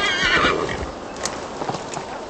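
Horse neighing in the video game Assassin's Creed Valhalla: a loud whinny opens the clip, followed by clip-clopping hooves and game ambience, with no speech.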